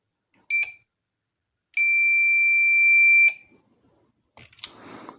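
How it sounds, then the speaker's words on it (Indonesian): A DIY flame-sensor fire alarm built with a relay and buzzer sounds a short beep, then a steady loud tone of over a second, with relay clicks at its edges and some handling noise afterward. "Perhatikan LED, buzzernya berbunyi, suara relay juga ada ya."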